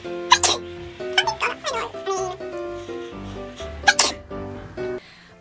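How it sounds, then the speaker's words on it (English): Two sharp, loud sneezes burst out near the start and again a few seconds later from a person applying foundation, over steady tonal background music. "I feel like I need to sneeze."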